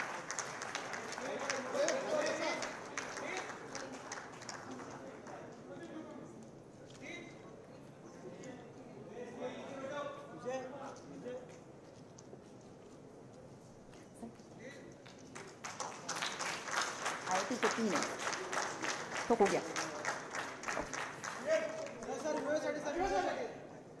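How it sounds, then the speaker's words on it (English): Applause at an MOU signing ceremony with the Maharashtra Chief Minister present, clapping rising in the second half, with chatter and an announcer's voice heard earlier. "Huge round of applause, please, ladies and gentlemen."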